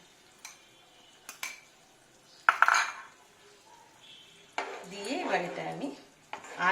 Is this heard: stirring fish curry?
yes